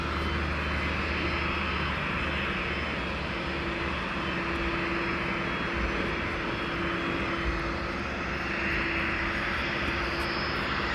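A Boeing 757 taxis at East Midlands Airport, its engines giving a steady, loud, continuous roar and whine that holds throughout.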